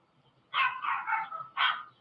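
A short run of three or four sharp dog barks from a back yard, somewhat distant, with a brief pause before the last one.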